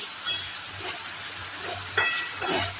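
Onion, potato and peanuts frying in oil for chowmein, giving a steady close sizzle with a few brighter bursts of crackle as the pieces are moved about.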